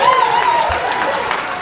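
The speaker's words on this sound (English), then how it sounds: "Give it a round of applause for your fighter." Audience at an improv Dungeons & Dragons show at a comic convention applauds and cheers, a dense steady crowd clapping with a voice carrying over it.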